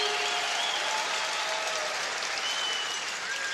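A curling arena crowd at a women's world championship game between Canada and China applauds a shot, dense sustained clapping filling the hall with faint whistles over it.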